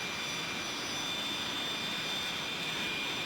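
Tupolev Tu-154 jet engines in Microsoft Flight Simulator 2020, a steady, loud, broadband roar with a faint high whine at cruise speed, continuous with no voices.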